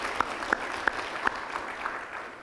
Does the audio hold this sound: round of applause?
yes